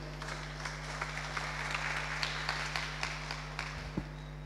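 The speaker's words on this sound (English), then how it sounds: "Please give him a round of applause." Scattered, fairly sparse clapping from a small crowd at a community forum over a steady low electrical hum, with a brief thump near the end.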